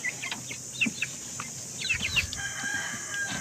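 Several short chicken clucks and calls scattered over a few seconds, moderately close, with a low rumble of background noise.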